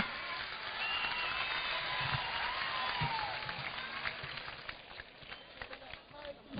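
A large crowd claps at an outdoor political rally in Nizamabad, a dense, loud, sustained wash of applause that eases slightly toward the end before swelling again.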